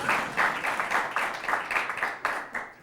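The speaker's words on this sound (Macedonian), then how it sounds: "Само момент, аплаус има." A live audience applauds during a satirical comedy sketch, a dense, steady wash of many hands clapping with rhythmic swells, fairly close and sustained throughout.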